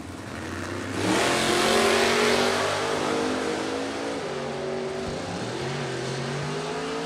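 Door car drag racing, with an S10 and a Mustang launching side by side: loud engines roar up at the start, then a sustained high rev with pitch changes through the gears as the cars pull away.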